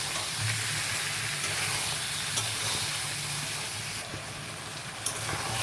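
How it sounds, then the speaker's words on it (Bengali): Spices for a veg curry sizzle in a pan, which hisses softly and steadily while they are stirred. A few faint clicks of a utensil sound against the pan near the end. "এবারে মশলাটা দিয়ে আমি ভালো করে কষিয়ে নেব"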